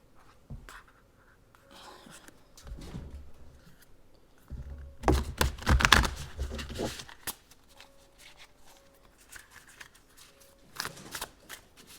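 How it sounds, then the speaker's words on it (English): Papery riffling and soft shuffling of tarot cards, with a louder burst of handling in the middle and quieter fiddling before and after. "I have a hard time shuffling at times"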